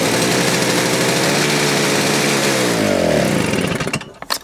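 A small engine pull-started with the choke on sputters and revs loudly and steadily for several seconds, then dies away, with a few clanks after it stops.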